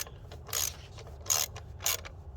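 Ratchet wrench turning a spark plug into a cylinder head during a misfire repair, three short bursts of close, crisp clicking with small mechanical ticks between them and no speech.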